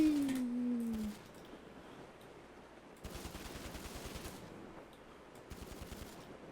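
Rapid bursts of AP pistol fire in GTA V, two loud strings of quick shots separated by a quieter stretch, with a descending whistle-like tone at the start.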